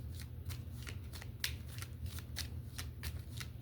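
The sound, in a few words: shuffling a deck of cards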